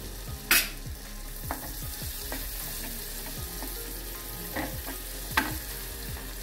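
Garlic frying in butter in a pan as the start of a spring roll stuffing, a low steady sizzle with occasional sharp clacks of a spoon against the pan, close up with no talking.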